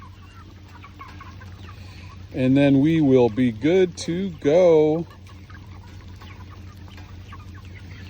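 Cornish Cross meat chickens on an Ohio farm give a short run of loud, close clucks and squawks in the rain, over a low steady background, while someone speaks briefly.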